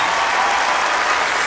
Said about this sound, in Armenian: էլ ավելի բարձր ծափ արենք մեր գեղեցկուհուն